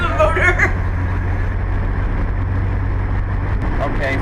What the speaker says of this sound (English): Here's the motor. It's going to shift to the third.